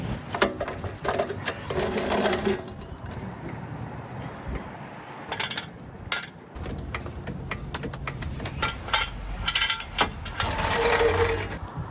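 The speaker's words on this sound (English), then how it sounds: "I've always wanted one of these Badland off-road jacks." A Badland off-road jack raises a trailer with rapid, uneven mechanical ratcheting and whirring in repeated bursts, steady and close with no talk.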